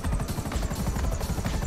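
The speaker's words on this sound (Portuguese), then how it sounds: "Ah, esse helicóptero é muito bolado." A helicopter in GTA V flies with a continuous, loud, rapid rotor chop. The engine drone beats in an even rhythm throughout, with no speech over it.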